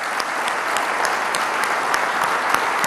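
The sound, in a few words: crowd applauding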